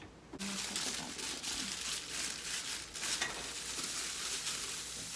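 Meat sizzles in a little oil in a hot pan, a steady loud hiss that starts abruptly and holds, with some faint background voice.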